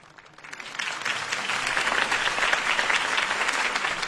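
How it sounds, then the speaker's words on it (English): Crowd applause after a campaign speech for Harvey Dent, swelling from a quiet start into loud, sustained clapping from many hands that continues without a break. "If only Mr. Wayne, my campaign's largest backer, could have heard that applause"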